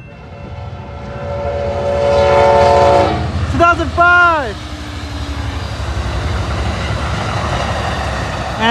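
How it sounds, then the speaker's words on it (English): An Amtrak San Joaquin passenger train rolls past at close range, its horn sounding a loud blast that falls sharply in pitch as it goes by, over a continuous rumble of wheels and railcars. "here comes San Joaquin train"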